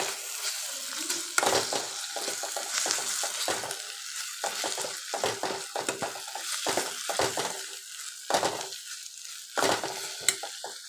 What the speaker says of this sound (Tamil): இஞ்சி பூண்டு பேஸ்ட் நல்லா வணங்கிக்கலாம்.